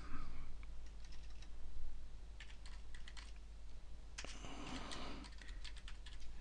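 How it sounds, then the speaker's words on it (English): Bursts of keyboard typing, quick irregular clicks coming in clusters with short pauses, set against a steady low background hum. "Sorry, typing."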